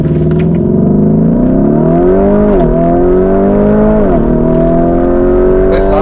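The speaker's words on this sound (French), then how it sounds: "tu nous donnes vraiment ton avis sur le départ arrêté de la voiture" A Lamborghini Urus SUV accelerates hard from a standing start, its engine note loud and close as it rises through the gears with audible shift dips, while someone talks over it.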